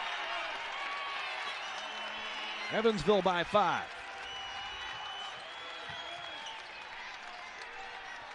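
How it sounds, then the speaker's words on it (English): Crowd noise in the Ford Center during an Evansville college basketball game against UT Martin, a steady roar throughout with a short burst of louder cheering in the middle, heard under a commentator's speech. "the Ford Center crowd making some noise"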